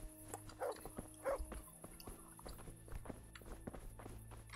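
A dog yelps briefly in the medieval game Kingdom Come: Deliverance when accidentally kicked, faint among footsteps and steady ambient background.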